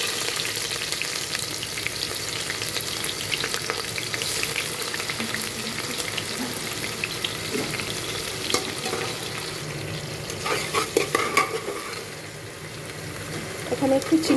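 Chopped onion frying in oil for a chicken curry, a steady loud sizzle with occasional stirring scrapes throughout, no talk.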